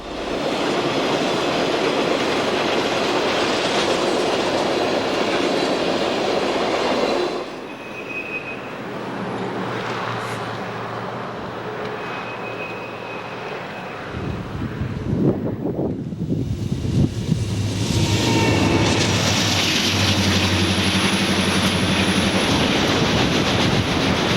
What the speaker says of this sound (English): This train operating on track 2 is the 21M, running from Jersey City to Chicago.